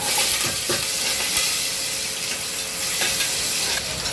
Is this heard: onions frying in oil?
yes